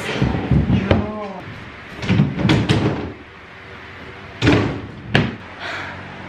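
A drawer on newly assembled IKEA furniture is slid shut several times, giving sharp wooden thumps and bangs close by, with a person talking in between.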